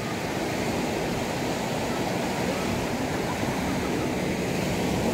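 Steady, continuous roar of surf washing onto a beach in Aceh Singkil, Indonesia, loud and even throughout with no breaks.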